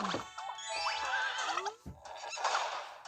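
A horse in the Miitopia video game neighs in a shrill, quavering whinny, with snorts and a second whinny following, close and clear with no talk over it.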